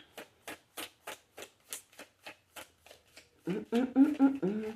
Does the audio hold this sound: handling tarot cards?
yes